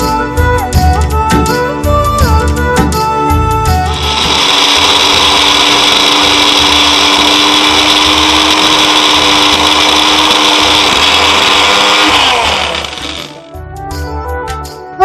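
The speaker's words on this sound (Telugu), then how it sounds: "ఓకే, మరి ఇది మిక్సీ చేసేస్తాను." A kitchen mixer grinder blends a masala paste, whirring loudly and steadily for about eight seconds after some clattering as the jar is set, then winding down to a stop.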